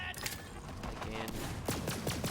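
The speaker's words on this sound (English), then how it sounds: "I like to just shoot my way through everything" Rapid gunfire crackles in Borderlands 3, dense overlapping shots and bursts with a voice talking faintly under the shooting.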